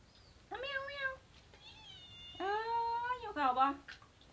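A cat meows several times at a farmhouse where Thai palm sugar cake is being made, drawn-out calls coming in three clear bursts, close and fairly loud with quiet pauses between.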